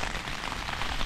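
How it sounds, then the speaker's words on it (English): Heavy rain drums steadily on a leaking tent, a dense, continuous patter close overhead with no speech over it. "a very heavy rain"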